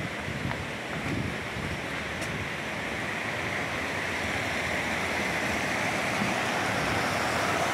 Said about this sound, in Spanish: Mira, ya por aquí hay chorros de agua por todos lados.